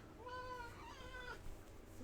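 A cat meows for treats, two drawn-out tonal meows in quick succession, close but quiet over a faint background hum.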